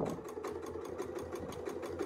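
Domestic sewing machine doing free-motion quilting loops with a hand-guided needle, a steady fast mechanical whir with regular rapid stitch pulses running continuously and close.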